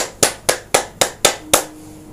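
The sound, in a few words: hand clapping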